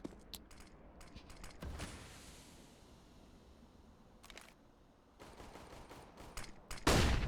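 Aug rifle fire in a Counter-Strike match on the Nuke map, heard as scattered sharp bursts and single cracks, some distant and faint, others closer, with a loud burst near the end.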